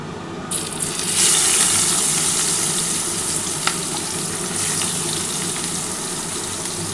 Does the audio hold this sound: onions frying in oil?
yes